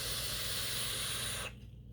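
Vapor exhaled from a dual-coil Broadside Brizo/Purge vape mod makes a loud, steady breathy hiss for about a second and a half, then cuts off abruptly into quiet.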